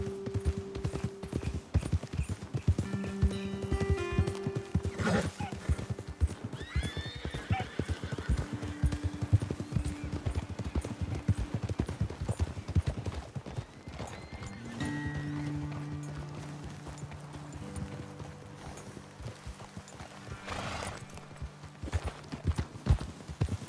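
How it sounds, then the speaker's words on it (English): Horses trot with steady clip-clop hoofbeats on a trail in Red Dead Redemption 2. A neigh and snorts rise above it, tack jingles, and the horses are close. "Dismount here. Best leave the horses back a bit."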